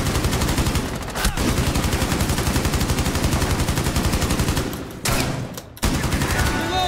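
Rapid automatic gunfire in the video game Rainbow Six Siege, a loud, dense stream of close shots that runs almost without pause, broken by two short gaps near the end.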